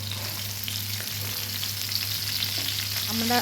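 Ayla fish frying with spices in a pan gives a steady, close, dense sizzle that holds evenly throughout, with a low hum underneath and no talking.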